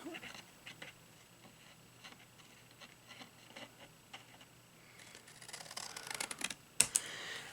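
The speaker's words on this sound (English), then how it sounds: "I like to have a longer pair of scissors because then you can do it in one slice" Scissors cut angled slices through scored paper tabs of a candy bar box, a series of faint crisp snips and ticks that grow louder and denser toward the end.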